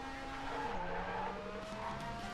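A car in the Go Vacation video game skids under the handbrake, a steady engine drone with a long tire squeal that shifts pitch as it slides, fairly close and with no voices.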